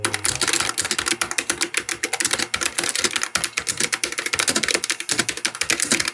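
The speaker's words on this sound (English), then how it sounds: "Now let's do a typing ASMR." Rapid, continuous clicking of keys on a light, compact low-profile keyboard, close and crisp with an uneven typing rhythm and no talking.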